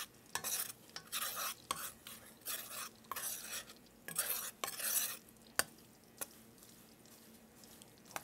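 Butter browns in a pan while a spoon skims off foam, giving bursts of bubbling sizzle broken by sharp metal clicks and scrapes against the pan, close up and with no voices.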